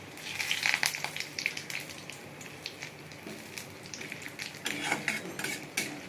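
Whole cumin, whole garam masala, dried chilli and bay leaf hit hot oil in a pan, giving close, irregular bursts of crackling and spitting over a soft frying hiss, with occasional light scraping.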